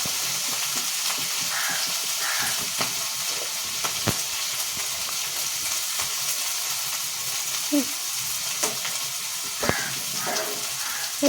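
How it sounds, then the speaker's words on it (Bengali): Spring onion greens and potatoes fry in a hot wok with a steady, close sizzle and occasional clinks of stirring, while a voice speaks faintly now and then. "ভাজা চলছে আচ্ছা পেঁয়াজকলি আলু লাল লাল হয়ে এসছে"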